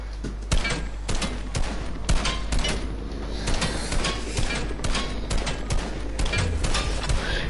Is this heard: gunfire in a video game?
yes